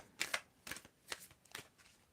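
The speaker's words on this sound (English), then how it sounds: "Your message from Mother Mary, just tell me when to stop shuffling, and that will be your card" Tarot cards are shuffled by hand in four or five quick, crisp riffling bursts spaced evenly apart, close and fairly quiet with no talking.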